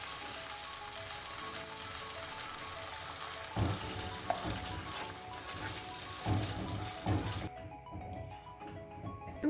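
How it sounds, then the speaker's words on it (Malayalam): Blended cashew paste poured into hot oil for a cashew masala curry, sizzling and frying steadily up close with a few stirring knocks, before the sizzle quiets abruptly near the end. "കാഷ്യൂ പേസ്റ്റ് ഒഴിച്ചു കൊടുക്കാം."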